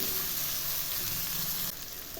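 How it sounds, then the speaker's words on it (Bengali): Half-fried vegetables sizzle in oil in a pan, giving a loud, even frying hiss that drops to a quieter level near the end. No one speaks. "দেখুন, সবজিগুলো আধা ভাজা হয়ে গেছে"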